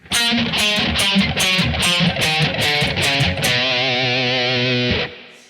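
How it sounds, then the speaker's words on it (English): Electric guitar played with heavy distortion, each note muffled at the bridge in a fast riff: loud, choppy percussive notes give way to a sustained ringing note, then a sudden cutoff. "he's muffling here at the bridge to lock in the note."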